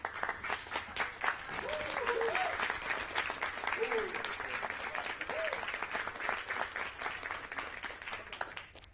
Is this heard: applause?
yes